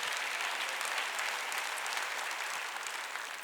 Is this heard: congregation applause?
yes